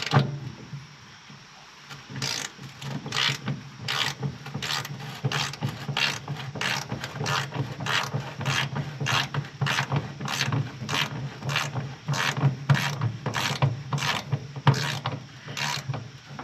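An Icon G2 1/4-inch drive ratchet wrench turns a bolt, its pawl giving a long run of evenly spaced, crisp clicks at close range. A steady low mechanical hum sits underneath, and no one speaks.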